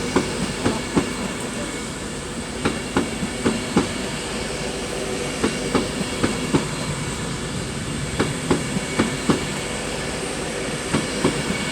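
British passenger train 390-119 passes through Crewe station with a loud, continuous rumble and a rhythmic clickety-clack as its wheels cross rail joints, heard close by.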